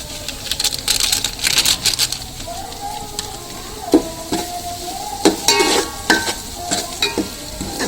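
Oily sizzle of masala paste frying with fried onions in a pan, loud and constant, with metal spoon scrapes and clinks against the pan in bursts and a voice speaking briefly over it.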